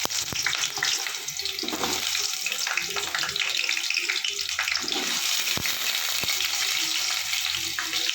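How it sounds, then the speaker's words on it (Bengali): Potato pieces fry in hot oil in a pan, a dense, steady sizzle with occasional stirring clatters and sharp pops, close and continuous. "তেলটা আমার গরম হয়ে গেছে, আলুগুলো আমি ভেজে নেব।"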